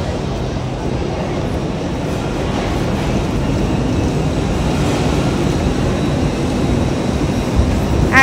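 Train waiting at a station on a Scotland-to-London run, a loud, steady low rumble of engine and platform noise with faint indistinct voices mixed in and a brief high tone near the end.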